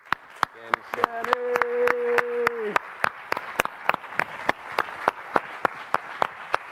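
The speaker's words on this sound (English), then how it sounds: "Everybody give a round of applause for our guy, Danny Silman." Applause at a live sports podcast taping comes through as a spread of individual claps and sharp hits with a steady rhythm, while people talk over them and a brief sustained tone sounds early on.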